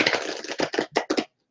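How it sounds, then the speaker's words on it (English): A deck of tarot cards is shuffled up close in a quick run of crisp, papery riffling bursts that end sharply in silence. "I'll give you a moment while I shuffle the cards."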